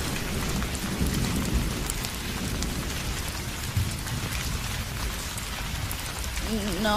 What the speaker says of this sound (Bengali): বাহির থেকে বৃষ্টির ঝমঝম শব্দ শোনা যাচ্ছে।